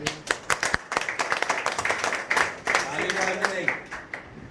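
An audience at a Dhanbad coaching association gathering claps: sharp, dense applause with distinct hand strikes, fairly close and loud, over a few seconds, with voices mixed in underneath.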